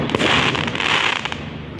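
Sparkler-style fireworks go off in Saltford, making a continuous loud fizzing crackle with scattered pops throughout and a sharper burst at the end.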